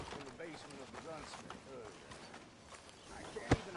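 Horse hooves clip-clop at a trot in a PS4 video game, quiet and rhythmic beneath louder character dialogue, with one sharp knock near the end.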